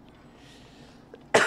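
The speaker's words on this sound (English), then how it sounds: "I'm still trying to get over the last of this cough" A single sharp cough bursts out near the end, close and loud, after a stretch of quiet room hiss.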